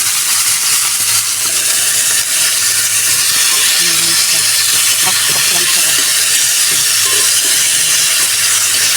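Chopped garlic sizzles in a hot pan, a loud, steady, broad hiss that fills the whole stretch, with faint voices beneath it.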